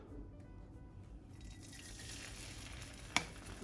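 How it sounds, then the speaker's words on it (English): Three beaten eggs hit hot oil in a pan for an omelette; after a quiet moment a broad, even sizzle swells and holds, with one sharp click near the end, close and without talk. "the pan is hot enough and we can put in our eggs now"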